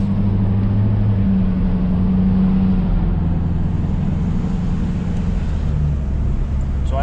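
A Ford 6.7 Powerstroke diesel pickup with a 5-inch straight-pipe exhaust idles with a steady, deep, loud low rumble that holds unbroken throughout, with no other sounds on top.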